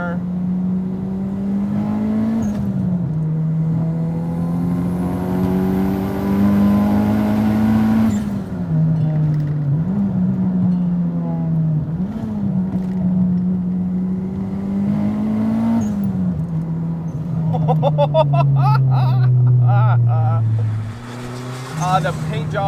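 A 400 hp turbocharged Honda Civic EK hatchback with a B18C engine powering out of a corner: a loud, continuous engine drone that climbs and dips in pitch over several gear changes, heard close from inside the car.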